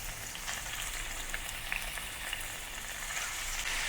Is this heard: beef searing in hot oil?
yes